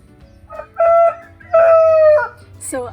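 A rooster crows on a farm that keeps turkeys, chickens and ducks: two loud, drawn-out calls up close, followed by a short clucking note.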